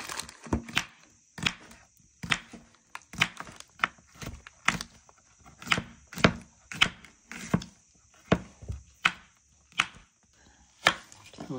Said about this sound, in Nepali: चटपटे अहिले काँक्राहरू काट्ने काम भइरहेछ।